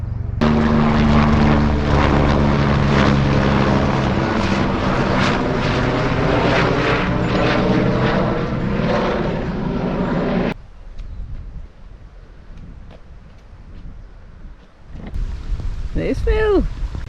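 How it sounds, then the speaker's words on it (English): Aircraft with a throbbing rotor-like engine drone passing over an abandoned Victorian dam site, loud and steady for about ten seconds before cutting off abruptly to quieter outdoor sounds and a brief closer whine. "And there's a helicopter."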